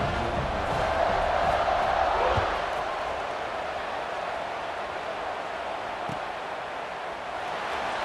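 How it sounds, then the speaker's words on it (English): Steady stadium crowd buzz in the College Football 26 video game after a score, a broad continuous roar that swells slightly early then holds at an even level throughout. "this crowd is buzzing after that last score"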